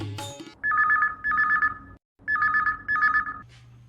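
A telephone rings on a call-in song show, two electronic double-trill rings separated by a short gap, clear and prominent after a brief snatch of music.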